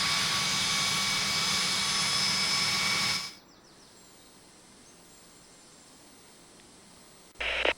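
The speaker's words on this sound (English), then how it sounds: "Runway 35, clear for takeoff." A jet airliner takes off in the Tower Simulator 3 airport control game at Salt Lake City, with a loud, steady engine roar that cuts off abruptly after a few seconds into near quiet, ending with a brief burst of noise.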